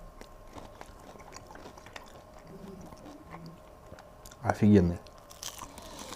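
Spicy KFC-style fried chicken wings cooked in a kazan get a loud, close crunchy bite followed by brief chewing, standing out from quiet background talk.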